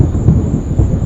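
Thunder rolls in a loud, deep, continuous rumble that swells slightly twice, with a faint high steady tone over it and no voices.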